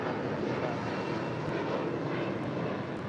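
A United Airlines Boeing 757-300 jet arriving from Denver at LAX, heard as a steady, fairly distant broadband engine roar that holds evenly throughout without talk.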